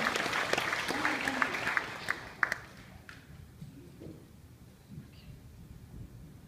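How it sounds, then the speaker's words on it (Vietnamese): A church audience applauds a choir after a hymn of thanks, a loud burst of clapping that fades over a few seconds, with a voice speaking over it. "Xin uh, quý bà chị em cho một tràng pháo tay nữa cảm ơn cả đoàn và cảm ơn Chúa rồi."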